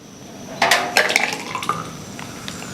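Egg batter being poured into a hot pan for egg rolls: a quiet background hiss rises into a burst of sizzling and light utensil clinks that taper off.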